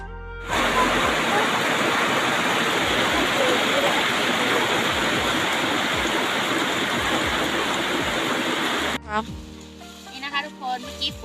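Heavy rain pours steadily on a mountain tea plantation, a loud dense hiss filling most of the clip before it cuts abruptly to quieter ambience near the end.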